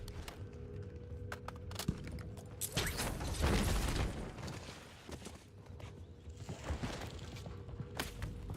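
A weapon magazine being swapped in Warzone: quiet mechanical clicks, creaks and ratcheting handling noises over a low steady background, with a few sharp clacks.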